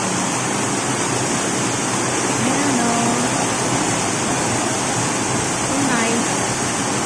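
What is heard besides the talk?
water flowing in a park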